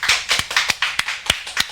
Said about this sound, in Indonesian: Sekali lagi tepuk tangan teman-teman buat propolis kita.